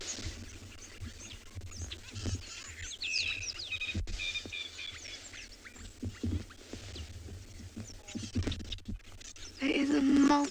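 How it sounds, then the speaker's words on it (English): Many wild birds call and chirp in overlapping layers at a morning safari site in South Africa, with crested barbets and white-crested helmet shrikes among them, moderately distant over a steady outdoor ambience. "There is a multitude of birds here."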